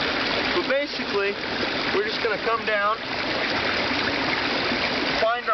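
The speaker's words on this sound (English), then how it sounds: "the water's been running for a couple of days" A steady rush of water runs through a garden pond waterfall feature, continuous and fairly loud, with someone talking over it.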